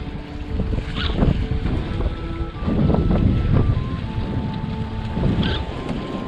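Lake waves slapping and sloshing against a small fishing boat, irregular and close, with a steady rush of wind across the microphone throughout.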